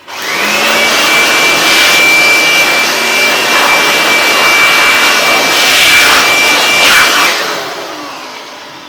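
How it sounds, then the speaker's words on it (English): A loud air blower roars steadily while drying an old generator, a sustained whooshing blast with a faint high whine running through it, then easing off at the end. "if you have air blower, go ahead and dry it"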